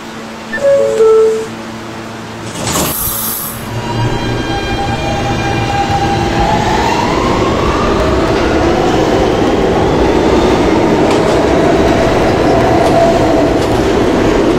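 An R160B N subway train runs between stations, with a loud burst of brake or air noise early on, then a steady, building rumble of wheels and car noise with rising motor whine throughout.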